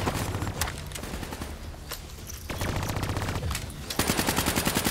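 Rapid automatic turret gunfire in Call of Duty: Black Ops 3, continuous rattling bursts with a few sharper shots, loud and close, intensifying toward the end without talk.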